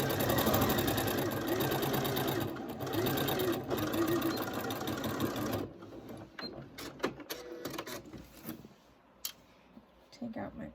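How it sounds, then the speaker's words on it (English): Sewing machine stitching curved-corner quilt binding: a loud, fast, steady run of stitches for about six seconds, then it stops and a few scattered clicks and handling noises follow. "so that I can get it all underneath my needle. And I will also backstitch at the beginning and end here."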